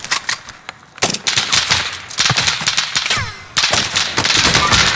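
Automatic weapon fire in Call of Duty: Modern Warfare, with rapid bursts and sharp shots crowding together loudly throughout, broken by short pauses.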